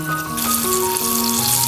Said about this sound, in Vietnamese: Các bạn chiên cá cho tới khi vàng đều hai mặt như thế này là được.